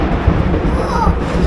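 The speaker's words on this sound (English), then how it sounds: "that was a big lightning storm, wasn't it?" A deep, rolling rumble of thunder from a big lightning storm fills the whole moment, loud and continuous, with no voices over it.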